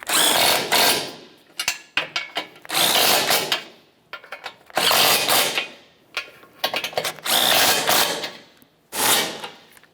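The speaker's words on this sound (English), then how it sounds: "With both sides of the mounting nuts started on, we'll tighten them up." A power tool spins mounting nuts onto the front bumper brackets of a 2012-2018 Nissan Altima in five loud whirring bursts of about a second each, separated by short pauses filled with light metallic clicks and rattles.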